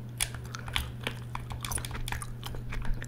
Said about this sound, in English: I'm chewing two pieces of bubblegum, watermelon bubblegum